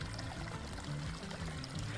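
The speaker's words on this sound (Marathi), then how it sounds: "हे बघा पाणी चालू आहे" Water running through a farm field flows in a steady, faint pouring rush, alone and unbroken over its short span.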